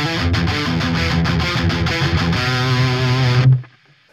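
Electric guitar played through a Rocktek ODR-01 overdrive pedal gives a loud, steady run of gritty, compressed chords and notes for about three and a half seconds, then cuts off sharply into near silence.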